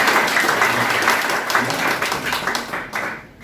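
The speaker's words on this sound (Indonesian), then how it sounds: "Tepuk tangan untuk Tuhan" A congregation at a church sermon claps hard, in a dense, sustained round of applause that slowly fades toward the end.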